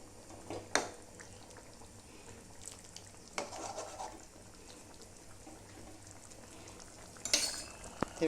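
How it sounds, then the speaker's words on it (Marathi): A chickpea curry is brought to a simmer in a pan, giving soft bubbling and faint sizzling at low level, with a couple of sharp utensil clinks and stirring scrapes. "हे बघा आता त्याला थोडीशी उकळी देते"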